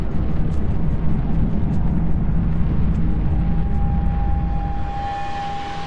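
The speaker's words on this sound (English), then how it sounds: "The plane will take off, headed south to Antarctica." A fixed-wing airplane bound for Antarctica roars steadily as it takes off, loud and close, with a constant engine drone and a rising tone appearing near the end.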